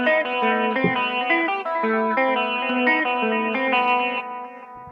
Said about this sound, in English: let's start by creating a guajeo using a montuno pattern on the guitar, reminiscent of the piano in salsa